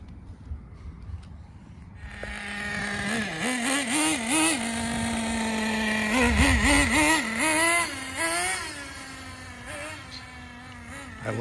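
A HotBodies Tornado nitro RC car engine idles, a steady close buzz that warbles and rises in pitch in short blips before settling back to its idle, running alone without talk.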